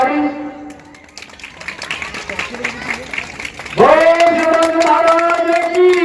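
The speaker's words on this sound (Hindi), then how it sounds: "जोरदार ताली।" A Ramleela stage audience breaks into a short burst of clapping, followed by loud amplified music or chanting that swells in over it.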